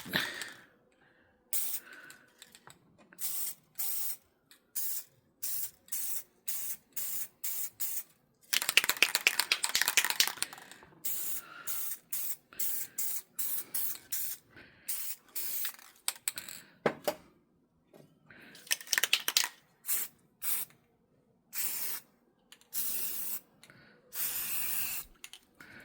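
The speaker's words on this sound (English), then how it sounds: "I'm going to take these colors and just kind of spray them in the" Short bursts of spray paint hiss onto water in quick, uneven pulses, with a longer sustained spray in the middle, close and fairly loud.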